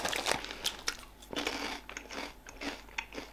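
Knickknacks snacks crunch between the teeth in a run of sharp, close bites and chewing, irregular bursts with brief pauses and no talk.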